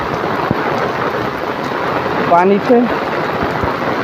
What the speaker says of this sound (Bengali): চারি সাইডটা দেখতেই পারতেছেন কিভাবে বৃষ্টি হচ্ছে।